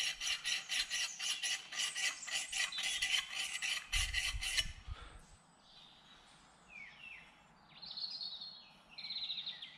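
A hand file rasps back and forth across a carving axe head in a quick run of rhythmic strokes, followed by a thump and then birdsong chirping quietly in the background.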